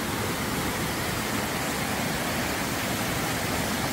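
Water runs steadily out of a pipe on a ranch, a continuous rushing hiss with no breaks, loud and close throughout.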